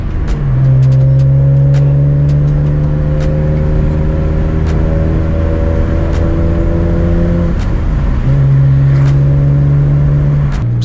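A BMW E46 M3 with a six-speed manual revs loudly and steadily close up, its engine note holding high and then dropping and climbing again around a gear change, with faint clicks over the drone.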